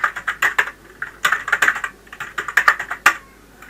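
A password is typed on a computer keyboard during a Red Hat Linux 5.4 installation, crisp keystrokes falling in quick clusters separated by short pauses, close and clear with no talk.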